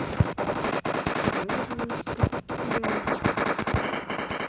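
Rapid bursts of video game automatic gunfire crackle continuously, dense and loud, with sharp individual shots punctuating the steady rattle.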